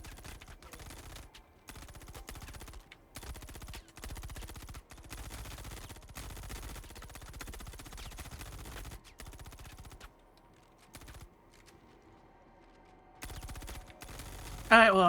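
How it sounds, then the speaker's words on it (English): Security guards firing at each other in a space video game: bursts of rapid gunfire come in choppy clusters with short gaps, one longer lull near the end, then a sharp loud burst, while a voice talks over it. "Oh, they're like shooting at that dude."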